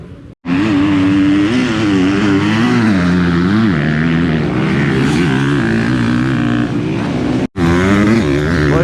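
Motocross motorcycles ride a busy dirt circuit, engines droning loud and continuous with shifting revs, briefly cut off near the start and again late on.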